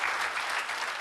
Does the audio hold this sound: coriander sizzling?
no